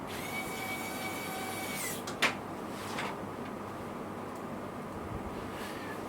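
A powered screwdriver drives screws into a Ryzen PC build, giving a whirring motor whine that rises and stops. A sharp click and a few softer knocks follow over a low background hum.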